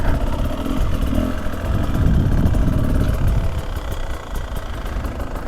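A two-stroke 300cc dirt bike engine runs loud and close, rough and rattly, revving and settling with a buzzy, uneven throb and no speech.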